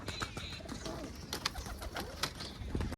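Pigeons kept for sale coo softly in a cage, giving repeated low throaty calls along with faint rustling and small knocks nearby.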